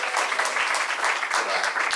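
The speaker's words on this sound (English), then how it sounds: "Give yourselves an applause for that matter" An audience at a hip hop program applauds: a brief, fairly quiet patter of many hands clapping, even and sustained, with a faint murmur of voices beneath.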